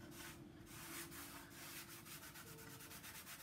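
Faint, steady rubbing of a cloth soaked in pure alcohol against the varnished interior of a violin, in a soft continuous scrubbing rhythm with short repeated strokes toward the end.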